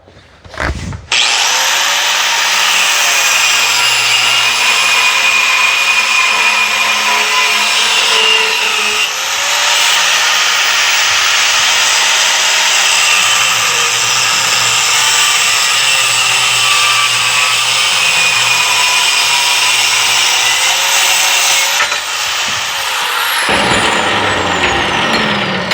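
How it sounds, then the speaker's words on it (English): A cutoff wheel slices through steel while making a motor lifting tool for a Corvair engine, a loud, close, sustained high-pitched grinding whine that runs unbroken for over twenty seconds and then spins down, with no talking. "I'm gonna cut her off right there with the cutoff wheel"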